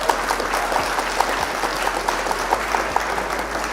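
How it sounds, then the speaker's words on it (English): A steady round of applause fills the room at a Flesh and Blood trading card game event, with many hands clapping densely and evenly for several seconds and a faint crowd murmur beneath. "round of applause for opponent"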